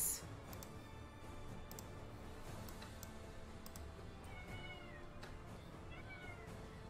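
A parrot imitates a cat's meow during a tabletop role-playing game session: a few faint, wavering meow-like calls rise in the distant background over low room noise, with no one talking.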